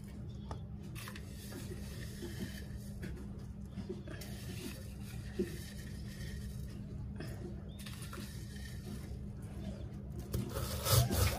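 Black cumin paste being ground on a shil-pata grinding stone, a steady rubbing, rasping scrape that continues throughout and grows louder and busier near the end.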